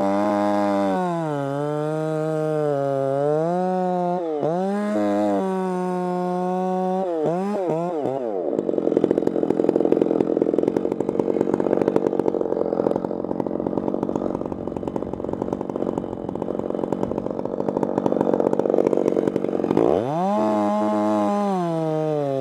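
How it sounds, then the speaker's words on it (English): A chainsaw cutting firewood on a nasty day in Alberton, Montana, idling briefly and revving a few times, then bogging into a long, loud, steady cut before dropping back to idle. "I'm gonna start cutting the firewood."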